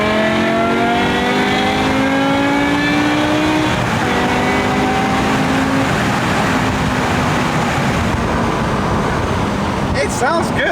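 A BMW E60 M5's V10 revs up from inside the cabin, its exhaust note climbing in pitch over several seconds, then settling into a steady, subdued roar that stays fairly muted inside.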